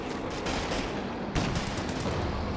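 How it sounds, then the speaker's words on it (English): In the Company of Heroes 2 video game, an M1 anti-tank gun fires amid a dense battle soundscape of continuous gunfire and rumbling explosions, with a heavy thump standing out partway through. "Good pen there by the M1AT gun."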